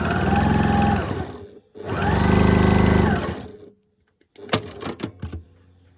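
A sewing machine stitches a quilt block seam in two long, loud, close runs of rapid needle chatter, followed by a few scattered clacks and handling noises.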